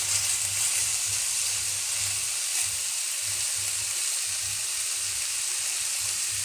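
Mixed vegetables fry in a pan for a wedding-style roast, giving a loud, steady, close sizzle and hiss throughout. A faint, irregular low stirring rumble sits underneath, and there is no speech.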